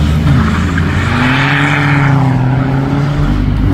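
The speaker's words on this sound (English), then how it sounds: "They've just cut a hole in the bonnet for the diesel sounds." Diesel car with a large hole cut in the bonnet as a vent, pulling away from a car show: a loud, steady engine drone with a low rumbling note that rises and sweeps past nearby, no voices.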